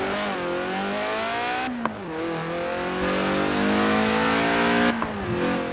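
Car engine accelerating in Forza Horizon 4, a loud, steady rising roar climbing through the revs with two quick gear-change dips and a short blip, no voices.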